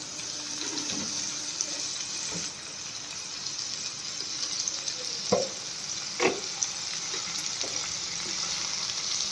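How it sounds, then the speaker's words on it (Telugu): Ivy gourd fry with grated coconut and salt being stirred in a sizzling pan, with steady frying hiss and a few sharp spoon scrapes and knocks against the pan, no talking. "మనం బాగా కలుపుకోవాలి."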